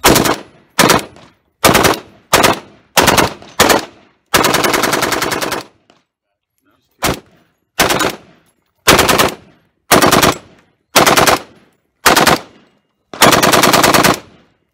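A CETME L 5.56mm machine gun fires a string of loud, close bursts, mostly short with a couple of longer sustained ones, separated by brief pauses, with no talking.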